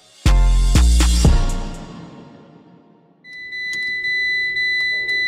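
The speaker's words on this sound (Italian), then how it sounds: "Che camurria sta minchia di cicalino che non finisce mai." Warning buzzer of a Fiat Punto beeping in a steady, repeating series of short tones inside the car, after a few loud knocks and thumps.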